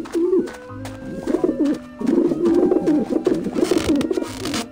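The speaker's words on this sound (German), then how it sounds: "Mit dem Sherlock Holmes kann man, glaube ich, irgendwie die Tauben beeinflussen" Pigeons coo repeatedly in a rolling, throaty rhythm in the game Grim Fandango Remastered, close and fairly loud, with overlapping calls and no talk.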